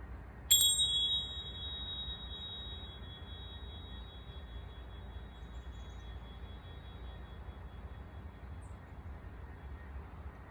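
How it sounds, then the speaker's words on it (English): A single pair of tingsha bells strikes once, clear and bright, and the high ringing tone fades slowly over several seconds into a quiet room. "I'm going to chime my tingsha bells together"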